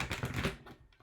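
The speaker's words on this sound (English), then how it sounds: "let me do one deeper shuffle here." A round tarot card deck riffled and shuffled rapidly, a dense papery flutter that is loud at first, then softer, ending in a few brief taps.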